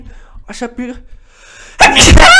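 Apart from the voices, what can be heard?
a sneeze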